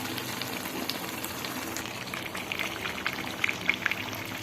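Steady soft sizzling and crackling of pickle simmering in oil, with occasional small pops over a constant bubbling hiss.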